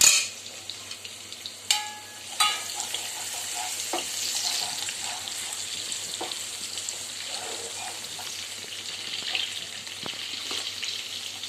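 Curry leaves, cumin and green chillies are sautéed in hot oil, starting with a sharp crackle as they hit the pan and then settling into a soft, continuous sizzle with a few clicks of stirring.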